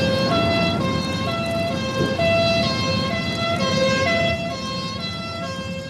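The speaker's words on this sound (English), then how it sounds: "There's another fire engine coming, so you'd better move on." A fire engine siren wails continuously at a scene where a plane and an aviation fuel tanker are on fire, its cycling tones loud and close, with traffic rumbling underneath.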